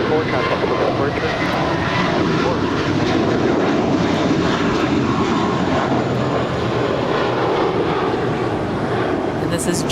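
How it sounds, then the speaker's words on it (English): A JetBlue Airbus A321 departing LAX, its jet engines making a loud, steady roar that holds throughout at close range. "And this is JetBlue Airways 1374 heading to Newark, New Jersey, just outside of New York. It's an A321."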